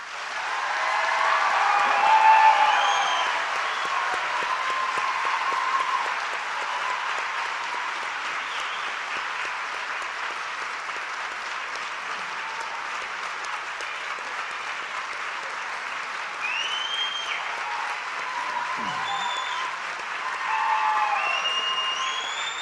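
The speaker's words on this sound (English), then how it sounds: "give one big round of applause for all the graduates" Sustained audience applause for graduates at a university hooding ceremony, a dense, even wash of clapping lasting over twenty seconds with slight swells in intensity.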